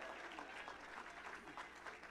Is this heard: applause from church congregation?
yes